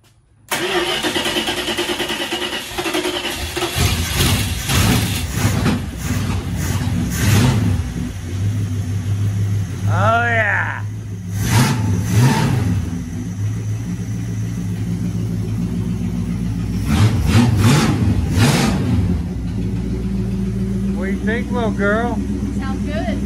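An old car engine that had sat unused for a while, with a loose spark plug wire, cranks, catches and revs up loud and close in several surges, then settles into a rough idle, with people talking over it.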